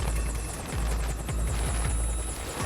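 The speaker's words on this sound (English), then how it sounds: "Can I get a helicopter to come into the LZ?" Helicopter coming in to a stamped-out landing zone on a snowy backcountry ridge during a rescue, its rotor beating in fast, steady thumps over a continuous engine whine, close and loud throughout.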